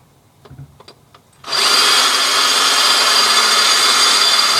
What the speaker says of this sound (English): Put it back in the hole and continue drilling.